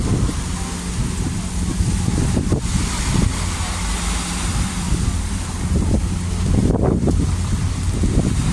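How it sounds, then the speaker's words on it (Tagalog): Strong wind with rain buffets the microphone under a bridge, a loud continuous roar with gusty low rumbles, while people talk over it now and then. "Grabing hangin ngayon guys."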